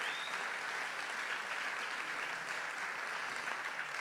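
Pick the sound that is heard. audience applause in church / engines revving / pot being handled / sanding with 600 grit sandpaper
audience applause in church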